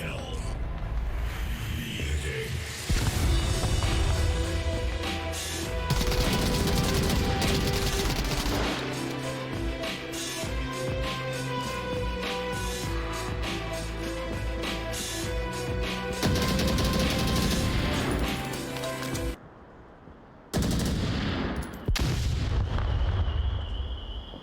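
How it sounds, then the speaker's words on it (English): Rapid gunfire and explosive bursts from the VR shooter game Onward during a competitive league match, with dense clusters of shots and blasts filling most of the stretch, a short sudden drop near the end, and a commentator speaking over the action. "We've already got gunshots coming in from Craftomic."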